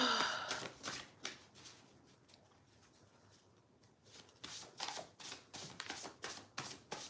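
Prayer cards being shuffled and pulled by hand, soft papery riffles and slides in a string of close, quiet bursts, with a calmer stretch in the middle before the shuffling picks up again.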